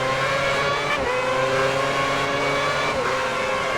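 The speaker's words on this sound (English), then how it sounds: "That's a Ferrari, that's Alonso?" Ferrari Formula One car at the 2010 Japanese Grand Prix at Suzuka, a high-pitched engine wail passing by with a clear pitch drop and gear changes, no talk.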